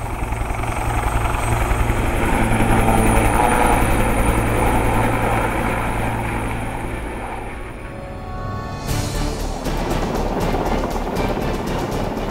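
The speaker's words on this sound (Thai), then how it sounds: "จะส่งเฮลิคอปเตอร์ มารับผู้บาดเจ็บบนฝั่ง" A loud, steady military helicopter rotor drone during a navy exercise fills the whole stretch, its pulsing thrum shifting slightly in tone near the end.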